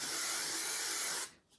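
A single steady hiss from an aerosol hair spray, close and loud, lasting just over a second before cutting off.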